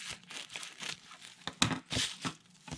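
Scissors cutting a plastic bag, close crinkling snips and rustling in short irregular bursts, quiet with no talking.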